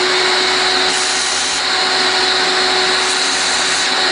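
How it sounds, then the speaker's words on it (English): A vacuum cleaner sucks up fine aluminum oxide dust, a loud steady broadband roar holding constant for the whole stretch with a faint tonal whine, no voices over it. "Vacuum everything."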